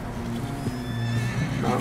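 A horse neighs loudly and close in Red Dead Redemption 2, a whinny over rhythmic clip-clopping hooves, with a voice speaking faintly beneath.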